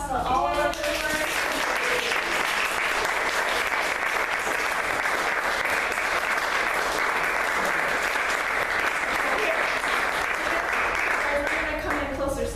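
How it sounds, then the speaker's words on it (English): A roomful of parents and families applauds at the close of a summer music recital for piano students, with steady, dense clapping that holds loud and even for over twelve seconds before easing slightly at the end. "let's give one last round of applause to all of our viewers"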